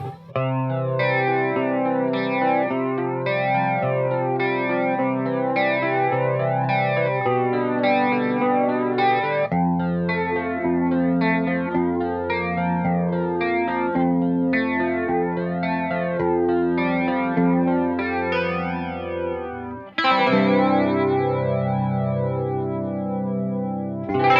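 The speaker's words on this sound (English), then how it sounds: "I really love the Retro Sonic Flanger" Electric guitar played through a Retro Sonic Flanger pedal on an all-analog pedalboard, giving a watery, sweeping top-end swirl. The chords ring loud and continuous, with a fresh strum near the end and no talking.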